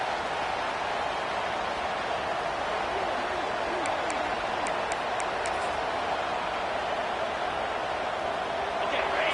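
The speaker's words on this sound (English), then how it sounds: "It's early, but this crowd is fired up. Listen to this noise here." A stadium crowd cheers in a continuous, even roar of noise, heard from within the stands without a break.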